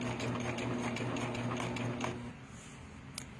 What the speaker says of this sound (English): that's a seam that my serger just doesn't want to go over